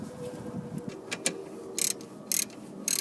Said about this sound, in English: we're going to reinstall our caliper, and we're going to screw the top bolt in all the way